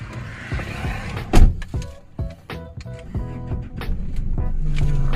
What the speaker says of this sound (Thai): ปิดประตูก่อน